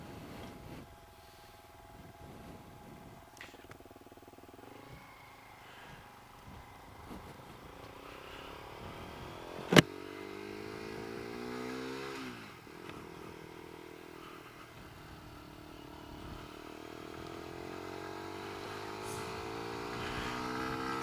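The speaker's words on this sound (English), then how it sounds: "Fire it up, we can hear that amazing exhaust tone." Exhaust note of a Lexmoto LXR 125cc motorcycle just after start-up, a steady near idle with a sharp knock near the middle, then swelling into a rising rev toward the end.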